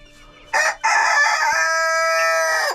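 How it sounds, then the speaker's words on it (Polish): Loud and close, a rooster crows among ornamental chickens in one long, sustained cock-a-doodle-doo that follows a short opening call, against a quiet farmyard. "O, i kogucik nawet pieje."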